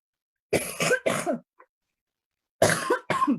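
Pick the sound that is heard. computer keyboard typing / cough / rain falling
cough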